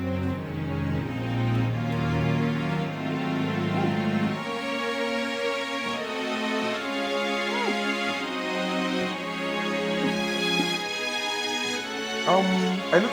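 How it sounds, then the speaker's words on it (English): Orchestral string ensemble played from a Logic template, sustained layered chords with a pedal point swelling steadily and continuously for the whole stretch, full and close, with no talking over it. "Wouldn't you be happy your strings can sound like this?"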